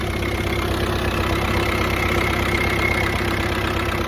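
A Volkswagen 2.0 TDI BKD diesel engine, just fitted with a new turbo, idles steadily and loudly up close with an even, continuous clatter and no talking.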